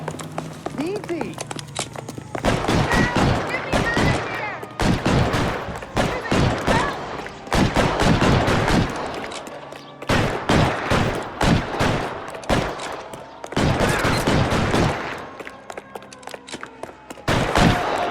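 Rapid bursts of gunfire ring out in a street shootout in the 1947-set video game L.A. Noire, loud volleys repeating in clusters over about eighteen seconds with brief pauses between them.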